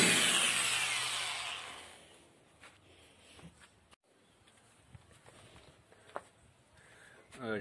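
A drill bores a hole while someone fits a hitch part on a small trailer. A loud whirring burst fades out, then scattered knocks and faint tool noises follow.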